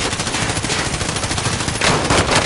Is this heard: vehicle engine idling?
no